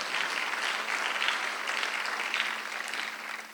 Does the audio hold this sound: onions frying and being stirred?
no